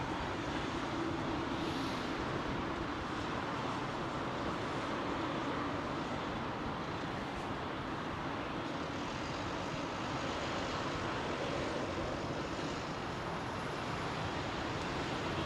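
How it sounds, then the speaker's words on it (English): A KLM Embraer E195 E-Jet at Heathrow Airport fills the air with a steady, broad jet roar that holds level and unbroken throughout, with no voices. "E195, the E-Jet, the new variant of the Embraer, is indeed, one of them's in town"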